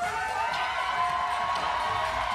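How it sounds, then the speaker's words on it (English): A crowd cheers at a bobsleigh push-start event, making a sustained, moderately loud roar of voices that holds steady for the whole stretch. "Crowd going wild for her."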